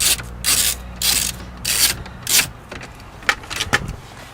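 Rapid metallic ratcheting in several short bursts as a ratchet removes screws from a Lincoln Town Car climate control unit, close by, followed by a few sharp clicks and clinks of loose metal parts.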